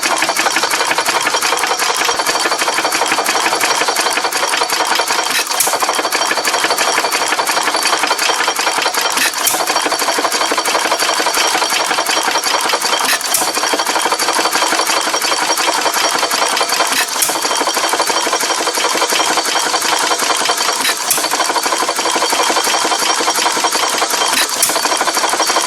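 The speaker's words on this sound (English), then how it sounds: "this engine starting and running" A 1918 Fairbanks Morse Z 1.5 hp headless hit-and-miss engine running steadily, a loud mechanical chugging with regular firing beats every few seconds over continuous clattering.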